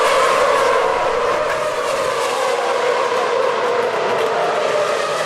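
Formula 1 cars racing at the 2013 Chinese Grand Prix roar past with a continuous high-pitched engine whine, loud and sustained with no pauses.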